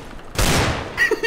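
A single sharp gunshot bursts out loud in a one-on-one video game match, trailing off quickly, followed by a brief metallic clatter.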